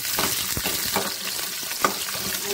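Onion, spices, grated coconut and tomato sautéing in hot oil for a green dal kurma, a steady close sizzle broken by scraping stirs with the spoon at a loose, uneven pace.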